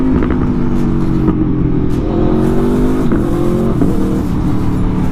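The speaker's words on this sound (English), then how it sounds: "let's get this thing back to the shop" An Aprilia Tuono motorcycle engine revs and pulls away on a Santa Monica street, with a steady loud drone and rising pitch sweeps as it accelerates through gears.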